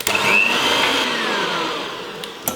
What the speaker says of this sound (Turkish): Üzerine de 1 su bardağı toz şekeri ilave ederek köpük köpük olup rengi beyazlaşana kadar yaklaşık 5 dakika kadar çırpıyorum.